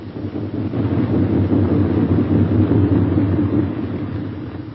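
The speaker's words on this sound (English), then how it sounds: "Coming in with his left inboard engine dead." B-17 Flying Fortress bomber coming in to land with its left inboard engine dead, a loud, steady, low engine rumble and drone that swells and then eases slightly, with no voices.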